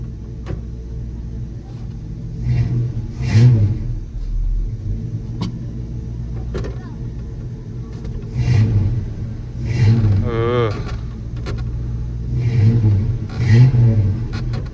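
A Chevrolet C10 barn find truck engine idles with a low, steady rumble, swelling into a few revs, close and loud throughout.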